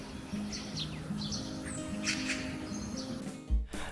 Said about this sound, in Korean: 아침을 깨우는 새소리입니다.